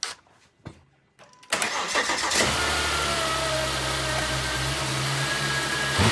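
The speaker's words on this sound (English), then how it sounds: "We'll see if the vehicle starts now." A 2011 Volvo XC70 3.2L cranks briefly and fires up after a throttle body replacement, then settles into a loud, steady idle with a faint high whine. A few clicks are heard before the start.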